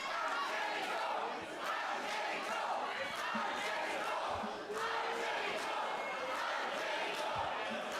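A loud, boisterous German wrestling crowd roars and shouts steadily throughout, a dense wall of crowd noise with scattered yells and no pause.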